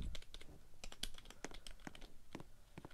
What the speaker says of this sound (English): cause I got a new keyboard. You want to hear it?